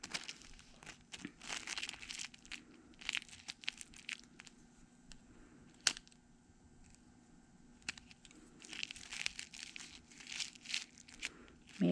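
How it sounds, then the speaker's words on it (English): Paper end wrap crinkles and rustles softly as hair is wound around a magnet roller during a pivot roller set, coming in faint, intermittent bursts with quiet gaps. "That's why I'm using that end paper to help direct that hair"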